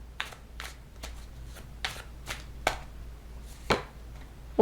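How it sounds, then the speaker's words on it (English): Tarot cards being shuffled by hand, a close series of about eight crisp riffling bursts at uneven intervals, alone with no talking. "Let me shuffle a little bit and see what other card."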